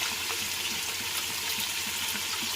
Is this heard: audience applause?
no